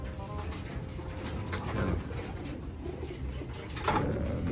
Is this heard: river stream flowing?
no